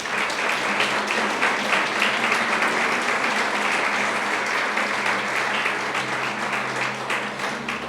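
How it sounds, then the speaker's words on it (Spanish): A church congregation applauding, a loud, dense, steady wall of clapping from many people that fills the whole stretch without pause. "Dale un fuerte aplauso a Dios."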